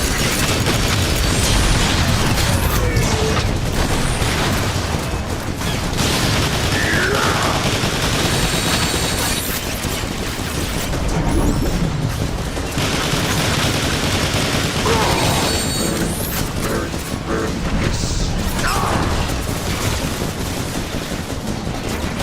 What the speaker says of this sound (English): Looks like the Autobots are still using these guns, Megatron. Our Seekers are getting shredded.